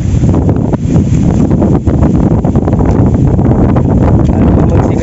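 Strong wind buffets the microphone outdoors at a fishing spot, a loud, continuous rumbling roar with gusty surges throughout.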